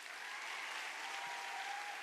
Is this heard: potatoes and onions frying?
no